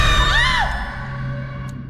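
A woman's high scream rises and sweeps down, loud and close, in a horror audio drama, with a low hum continuing beneath it after the cry ends.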